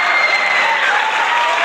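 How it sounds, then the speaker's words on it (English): Steady, dense applause from a crowd, loud and continuous throughout with no pauses. "definitely give him a round of applause"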